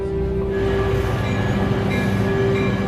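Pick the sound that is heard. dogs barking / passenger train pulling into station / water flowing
passenger train pulling into station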